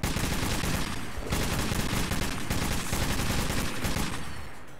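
A mounted turret machine gun fires in Metro 2033 Redux: loud, close, rapid sustained bursts run for nearly five seconds with only brief gaps, and no voices are heard.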